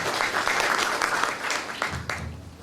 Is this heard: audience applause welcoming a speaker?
yes